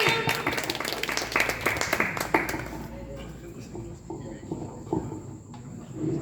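An evening audience at a poetry exhibition event bursts into dense, loud clapping that breaks off after about three seconds, leaving quieter room sound with voices.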